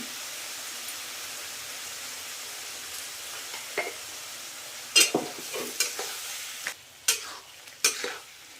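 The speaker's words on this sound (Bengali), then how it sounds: "নুনের সঙ্গে পোস্ত আলু সব ভালো করে মিলে গেছে ভাজা হয়ে গেছে" Potatoes mixed with poppy seed paste, salt and a little water fry in a pan, a soft low hiss broken by several louder scraping stirring strokes in the second half; no one talks.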